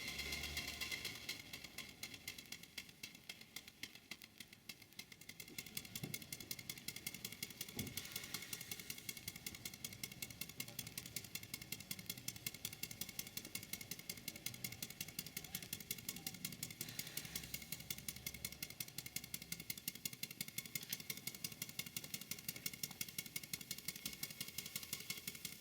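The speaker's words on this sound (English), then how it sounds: "I'll just leave the video running so you can hear the sound of the engine." A small model steam traction engine chugs with a rapid, steady mechanical beat and clatter, running continuously without any talk.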